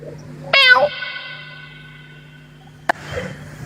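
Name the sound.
cat meowing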